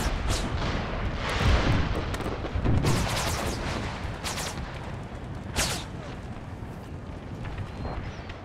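Shrapnel from artillery rounds bursts in Empire: Total War's American Civil War mod, a steady run of distant booms and crackling volleys over a constant battlefield rumble, with sharper reports now and then.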